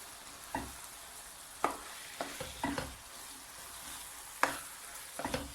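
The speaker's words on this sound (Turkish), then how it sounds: "Şu an margarinle hem soğanlarımız daha güzel kavrulacak etimiz, soğanımız" Onions and minced meat sautéing in margarine in a pan for stuffed kibbeh filling, a quiet low sizzle broken by several sharp scraping stirs, no voices.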